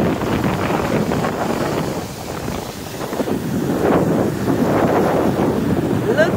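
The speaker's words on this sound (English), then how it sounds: "Look at the waves. Check out the waves. The sea is rough today" Rough sea out on a boat, with waves washing and surging continuously as strong wind buffets the microphone in heavy gusts. Nobody speaks.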